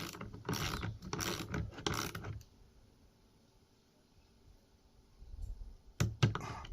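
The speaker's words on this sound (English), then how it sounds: "I'm going to torque these down to 40 inch-pounds" A torque wrench tightens bolts on the terminals of a DIY 48V LiFePo4 battery built from EVE 105Ah cells, producing a close series of rapid ratcheting clicks, then a quiet pause and a few final clicks.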